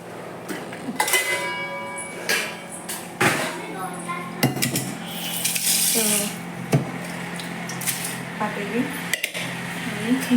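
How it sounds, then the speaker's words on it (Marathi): Metal milk pots are lifted out and handled in a home kitchen, with repeated close clanks, rings and scrapes of steel vessels scattered through the clip while someone talks over them. "मी दुधाची पातेली वगैरे काढून ठेवते"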